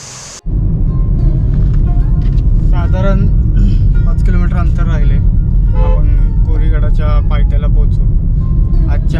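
A car driving toward Korigad fort in the Sahyadri hills gives a loud, steady engine and road rumble inside the cabin, with people talking over it throughout.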